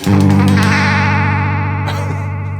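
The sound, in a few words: real guitar modulation pedal at full depth, robotic sound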